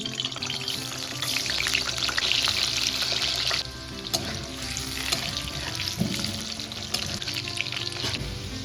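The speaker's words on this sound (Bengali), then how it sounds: "এখানে তেলটা গরম হয়ে গেছে, এবার একটা একটা করে আলু ছেড়ে দিচ্ছি।" Potatoes for Kolkata biriyani, dropped one by one into hot oil, crackle in a loud, continuous sizzle with bubbling spits and a few brief splashes throughout.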